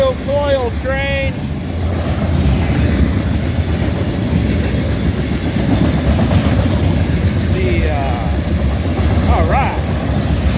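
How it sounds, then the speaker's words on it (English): A steel coil freight train rolls past a grade crossing on a rainy day in Miamisburg, a loud continuous rumble and wheel clatter throughout, with high squealing wheel screeches rising over it at intervals. "Steel coil train."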